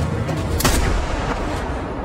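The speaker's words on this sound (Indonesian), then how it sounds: "Tiba-tiba terjadilah penembakan." Gunfire breaks out during a pistol standoff in a film scene, with a sharp burst of shots inside a dense, roaring wash of noise. There is no talking.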